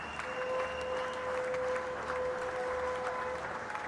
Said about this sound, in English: the entire Indian team in the dressing room standing up and applauding